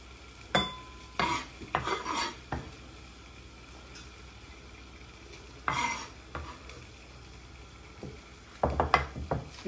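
Spoon stirring a charmoula marinade of chopped parsley and coriander in a bowl, heard as a few scattered scrapes and clinks in short bursts with quiet gaps between them, close by, with no talking.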